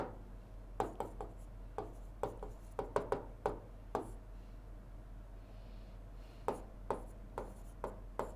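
Pen or chalk writing a note during a grammar lesson: irregular sharp taps and short scratching strokes, some in quick clusters, over a faint steady hum with no talk.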